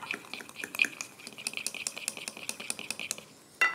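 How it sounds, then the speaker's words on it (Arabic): Tahini mixed with garlic gets stirred in a bowl, a spoon clinking and scraping against the sides in quick, steady strokes, with a louder knock right at the end. "ونقلب."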